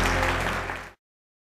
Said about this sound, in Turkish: Genel Sekreteri Sayın Mete İmer'i alkışlarınızla sahneye davet ediyorum